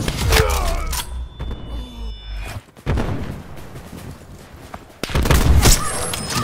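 Gunfire from the Bolt Action video game comes as several sharp booming shots with crackling echoes and rumbling battle noise between them, fairly loud and close.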